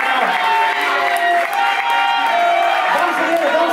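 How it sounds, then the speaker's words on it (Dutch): A crowd at a kickboxing press conference and stare-down cheers and applauds the fighters. Steady clapping is mixed with loud whoops and voices, forming a continuous, lively roar throughout. "Geef ze nog 1 keer een groot applaus natuurlijk"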